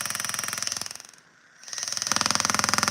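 A grinder working on brass, a loud, close, steady rapid buzzing that drops away briefly in the middle and then comes back strongly.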